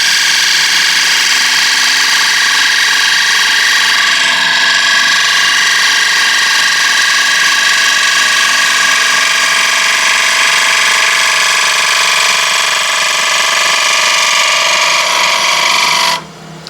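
A half-inch spindle gouge cuts slowly into ash wood spinning on a lathe, giving a loud, steady tonal whir and scrape that holds without a break and cuts off abruptly at the end.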